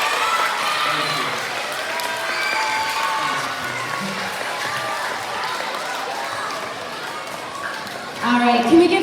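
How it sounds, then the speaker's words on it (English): Audience applause at a school assembly, a broad, steady wash of clapping from a crowd, with a presenter's voice talking over it throughout and a brief thump near the end. "can we give one more big, huge round of applause"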